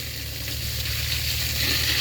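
Steady hissing water spray washing down a Kubota L4018sp tractor after the rice season, a continuous close broadband rush with a low engine or pump hum underneath.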